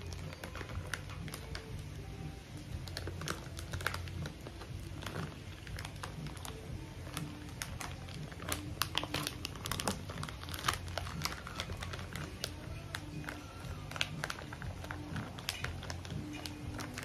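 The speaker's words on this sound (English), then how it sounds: "Oops. Can't get it back in the bag." Quiet, close crinkling of a plastic bag being handled around a nectarine-scented product, with irregular bursts of rustling and small crackles throughout.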